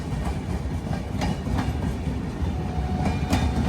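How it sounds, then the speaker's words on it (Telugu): A Kacheguda to Bhagat Ki Kothi train pulling away, its carriages giving a steady, close rhythmic clickety-clack and rumble with no voices. "చలో మన ట్రైన్ కూడా బయలుదేరిపోయింది"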